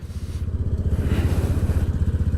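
A motorcycle engine revving during basic rider training near a beach, its close, loud, pulsing idle rising and falling in quick rhythmic throbs.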